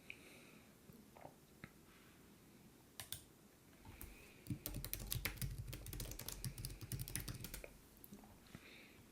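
Keys clatter on a computer keyboard as a new folder name is typed, with sparse taps at first and then a dense, quick run of close clicks, quiet and with no voices.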